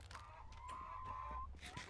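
A chicken in the Minecraft video game gives a honking, clucking call lasting about a second, loud against a steady game background.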